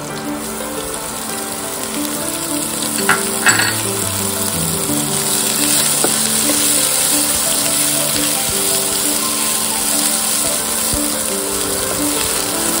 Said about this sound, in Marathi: आता आपण यात कोबी घालूया व कोबी छान परतवून घेऊया